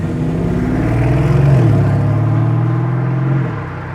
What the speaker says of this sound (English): Loud orange Urus SE.